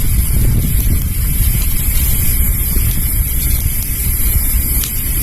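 Strong wind gusting across a campsite during motorcycle tent camping, a steady loud rush buffeting the microphone throughout with no voices.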